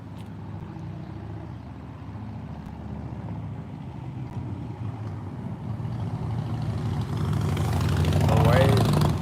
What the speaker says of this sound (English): Here comes a motorcycle that's gonna drive by me.